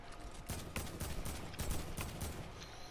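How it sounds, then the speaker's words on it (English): Fortnite assault rifle gunfire in a rapid, rhythmic string of sharp shots at a fairly low level, with no talk over it. "I'm gonna shoot it with your AR."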